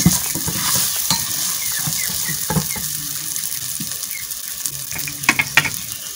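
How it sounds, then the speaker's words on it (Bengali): Bay leaves and other dal ingredients fry in hot oil while being stirred, a steady sizzle broken by repeated scraping and knocking of a spoon against the pan, close and without speech. "এখন আবারও নেড়ে চেড়ে নিচ্ছি যেন সবগুলো উপকরণের সঙ্গে তেজপাতা খুব সুন্দরভাবে"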